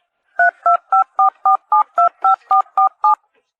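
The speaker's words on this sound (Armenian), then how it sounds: "Վերցնում ենք հեռախոսը։ Մի րոպե։ Երբ է վերցնում հեռախոսը։ Հավաքում ենք առաջին պատահած համարը։" Eleven electronic keypad tones from a telephone being dialed, evenly spaced, clean and close, with no voices.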